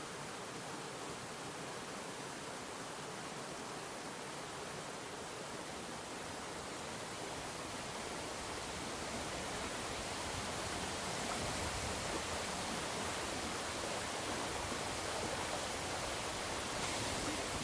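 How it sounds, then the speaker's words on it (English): Water pours over a hydroelectric weir on the Watkin path up Snowdon, a steady broadband rushing roar with no breaks, fairly distant and even throughout, with no voices. "We're now at the weir"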